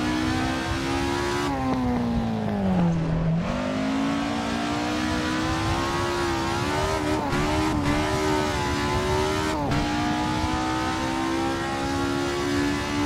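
A Ford RS1600 race car in a video game laps the Nordschleife, its engine droning loud and steady with rising and falling revs and brief gear-change dips, running continuously without talk.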